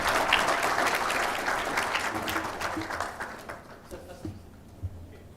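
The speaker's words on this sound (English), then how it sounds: "Please welcome all the speakers with a round of applause." Audience applause greets the panel speakers and moderator at a healthcare management conclave: dense, steady clapping from a large crowd that gradually thins and fades out over the last couple of seconds.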